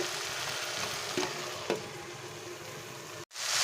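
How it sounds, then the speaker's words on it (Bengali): Steady frying sizzle of okra (bhindi) in a pan, continuous and close, with a couple of soft stirring scrapes before a brief cut. "ভিন্ডিটাকে দশ মিনিট আমি এরকম ঢাকা দিয়ে দিয়ে নেড়ে নেড়ে"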